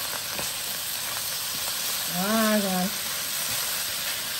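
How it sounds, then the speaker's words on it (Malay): Prawns and fried rice for tomyam fried rice sizzle and pop in a wok, a steady close frying hiss throughout, with a brief tonal squeak partway through and occasional soft scrapes. "Dia dah meletup-letup tapi dia masih ada basah sikit sebab air udang tadi kan"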